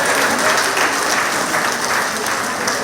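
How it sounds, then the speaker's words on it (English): Loud, sustained audience applause at a monthly community meeting in a community centre, with many hands clapping continuously and evenly for nearly three seconds. "Give them a round of applause."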